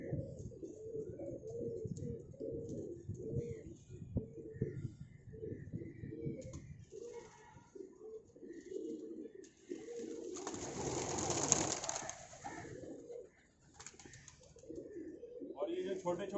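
Young pigeons in a pigeon loft cooing in low, soft, repeated murmurs throughout, with a brief flurry of wing flapping midway and someone talking over them.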